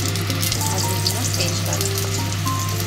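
Four boiled eggs sizzle and crackle in hot oil in a pan, a loud, steady frying hiss with a low hum beneath it.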